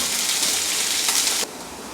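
Garlic and sliced ginger sautéing in hot oil for a tuna curry, a steady close sizzle and crackle that drops slightly near the end, no talking.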